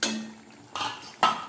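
A lid set down on a pot of fish curry on a switched-off gas stove, with two distinct metallic clanks after an initial clatter, close and fairly loud, no talking.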